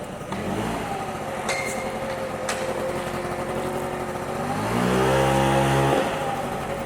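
Honda motorcycle being ridden, its engine note droning and shifting pitch, then climbing in a strong rev near the end, fairly close with no talk.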